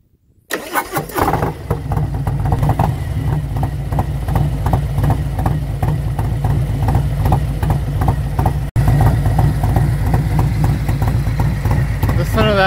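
A Harley-Davidson Road King rides off, its loud, close engine roaring steadily and shifting at about 3,500 RPM, with a brief cut partway through.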